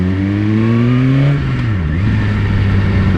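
A Suzuki GSX-R1000 superbike with a Yoshimura exhaust revs hard and loud nearby, its engine note climbing through a gear, dropping at a shift, then pulling up again.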